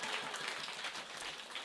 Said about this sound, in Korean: 네, 박수 좀 쳐드리세요